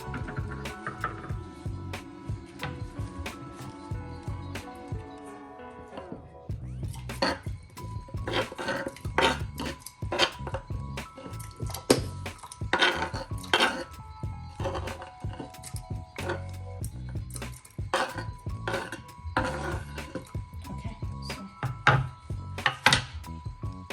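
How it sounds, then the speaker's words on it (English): Fresh ginger is sliced into pieces with a knife on a cutting board for a Chinese home cough remedy, producing a run of sharp, irregular close-up chopping taps that starts after a quieter opening. "I'm going to wash this ginger and then I'll slice it into pieces."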